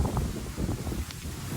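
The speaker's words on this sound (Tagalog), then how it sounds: "pakinggan natin yung mga hampas ng hangin, yung sayaw ng mga dahon" Wind gusts sweep across an open farm in Quezon Province, a steady breathy roar buffeting the microphone with faint leaf rustle mixed in.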